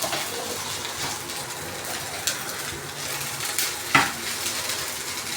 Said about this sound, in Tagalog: Haluin hanggang sa magsama-sama ang kanin at giniling.